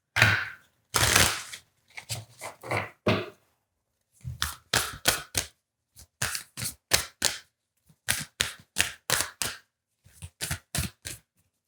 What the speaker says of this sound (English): Just picking out your oracle cards here for May.